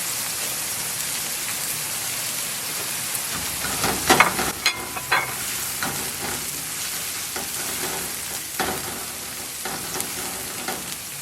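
Grated ginger, onions and garlic sizzling in a pan for carrot rice, a loud, steady rain-like frying hiss with a few sharper stirring scrapes and pops partway through.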